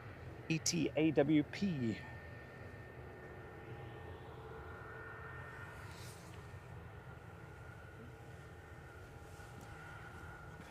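An Ethiopian Airlines A350-900 jet arrives from Geneva at Manchester Airport, a steady, distant engine roar that holds evenly for the rest of the clip after a short burst of voices at the start.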